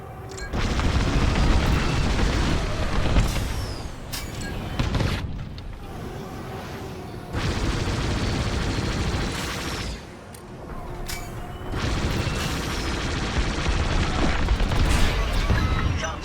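A starfighter in the Star Wars Squadrons game firing on shuttles, with heavy rumbling booms and bursts of cannon fire rolling in long waves, broken by brief quieter gaps.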